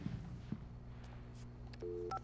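Faint telephone dialing in Alan Wake Remastered, with a few short keypad tones near the end of a quiet, brief stretch and soft background noise before them.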